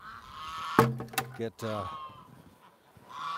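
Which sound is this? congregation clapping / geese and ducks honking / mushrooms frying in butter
geese and ducks honking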